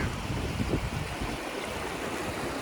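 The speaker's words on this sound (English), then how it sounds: "Whitewater River. I think this is only part of it, but I've got to cross here" The Whitewater River flows at a trail crossing with a steady, close, broadband rush of water and no break in the noise.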